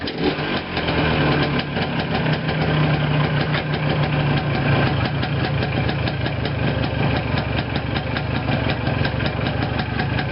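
Small engine idling steadily after a choke start, a continuous close, loud chugging drone with a light knocking rhythm throughout, no talk.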